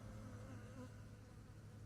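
Honey bees buzzing around an open hive during an apiary inspection, a continuous low droning hum that is faint and steady with no speech.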